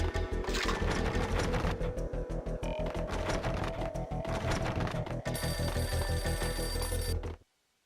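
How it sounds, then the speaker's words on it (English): A beaten-up phone rings in an entrance hall in the video game Alex Casey, a loud, rapid rattling bell in repeated bursts that stops abruptly near the end. "A beaten-up phone in the entrance hall was ringing"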